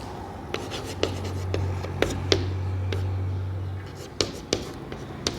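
A pen writes an answer on paper, soft scratching strokes with a few sharp taps of the tip, close up and intermittent over a faint steady hum.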